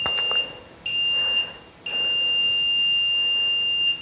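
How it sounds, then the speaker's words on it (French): Two short electronic tones are followed by one long, sustained high beep marking the end of an exercise set, loud and close, with no voices. "Là, on va entendre un bip long."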